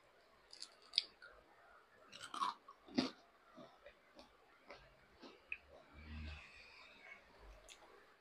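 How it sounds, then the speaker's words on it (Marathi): Crisp bites and chewing of crunchy fried chicken, close and fairly quiet, with sharp crunches and clicks spread irregularly over several seconds. "एकदम कुरकुरीत झालाय, जसं मला आवडतं तसं कुरकुरीत. म्हणजे हे बघा, आवाज येईल तुम्हाला."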